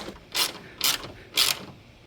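A hand ratchet tightens a nut on a strut tower brace being fitted to an S650 Ford Mustang. Three short, sharp clicking bursts come up close, evenly spaced with brief pauses between them.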